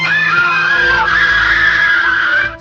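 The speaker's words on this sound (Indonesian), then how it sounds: "Jeritan kaget terdengar" A shocked scream rings out as a loud, sustained shriek and fades abruptly at the end, with no talk.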